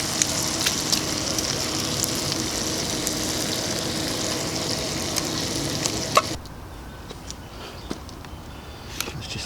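Steak and sauce sizzle and fry steadily in a pan over heat, a dense continuous crackle that drops sharply quieter about two-thirds through as the pan is moved or the heat eased, with light clinks.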